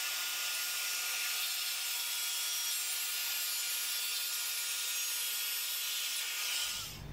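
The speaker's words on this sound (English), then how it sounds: "couple of passes with a circular saw to get this first board into shape" A circular saw running along an edge guide trims a wooden board, cutting with a steady, high-pitched whine and rasp, loud and close, then spinning down at the end, with no one speaking.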